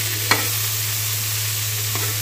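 Vegetables seasoned with black salt and black pepper are stirred in a pan: two short scraping strokes over a steady low hum and soft frying hiss, with no speech.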